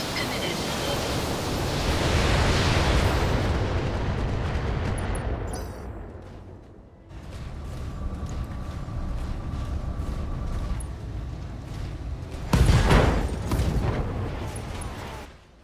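A mech unloads all its weapons in a battle video game, a roaring, sustained barrage with rumbling impacts and a sharp burst of explosions near the end.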